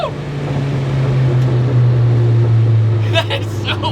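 A Porsche fitted with a swapped-in VW Passat engine pulls hard in first gear, a steady low engine drone holding loud and close throughout, with sharper higher bursts and a brief voice near the end.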